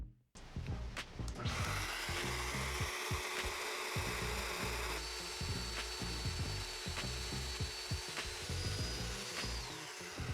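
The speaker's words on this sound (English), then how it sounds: "I marked and cut the front facing dominoes on upper and lower parts of the leg" Domino joiner cutting mortises in hickory and white oak table legs, a loud continuous whirring cut with a steady high whine and repeated rough plunging bursts throughout, close up.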